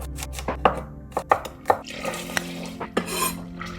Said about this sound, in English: Now let's dice it up.